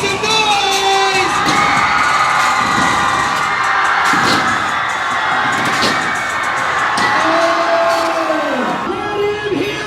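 A large crowd of schoolchildren cheers and screams at an anti-bullying BMX stunt show, loud and sustained, with whoops and shouts swelling in waves. An amplified announcer's voice cuts through now and then.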